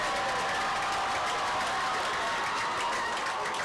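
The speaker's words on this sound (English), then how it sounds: "that's got the Eau Claire Memorial homecoming crowd really excited" A homecoming high school football crowd in Eau Claire cheers after a long run, a steady, distant wash of applause and crowd roar that holds level throughout.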